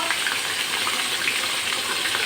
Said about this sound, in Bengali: মাছটারে ভেজে নিই